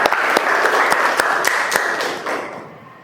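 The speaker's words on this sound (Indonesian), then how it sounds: "Tepuk tangan untuk kita semua ya." Classroom applause from students rings out as a burst of dense hand clapping with a few sharper claps, fading out within about three seconds.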